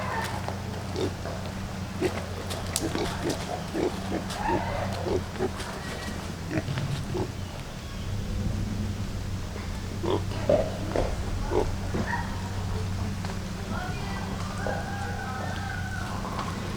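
Pigs on a homestead after a storm grunt, oink and cough in scattered bursts over a steady low background hum, close by and fairly quiet, with no clear speech.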